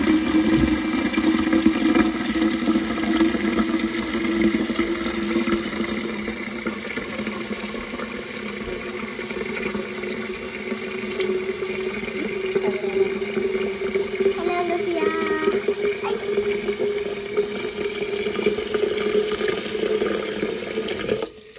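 Water running from a kitchen tap into a pot for boiling, a steady splashing flow that continues for about twenty seconds, with the pitch rising as the pot fills before the tap stops.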